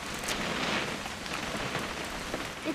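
Rain falls steadily in the video game What Remains of Edith Finch, a continuous hissing patter of drops on surfaces, fairly close and even throughout, with no voices.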